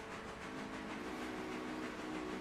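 A diesel locomotive running in the Railroader game, a steady low engine drone with a faint tonal hum and rolling rail noise, constant and unbroken, with no voices.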